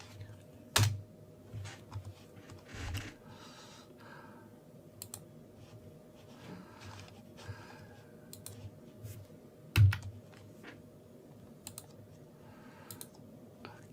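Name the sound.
typing on a computer keyboard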